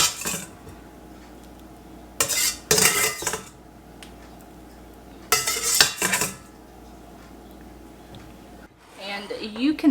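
Boiled dumplings, drained in a colander, are scooped into a bowl for Hungarian beef goulash. Two short bursts of clattering metal utensils and dishes stand out over a quiet kitchen background, with a voice briefly near the end.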